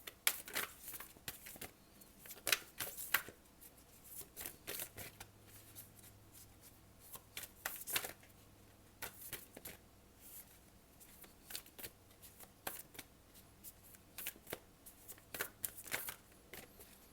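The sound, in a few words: shuffling Gita deck cards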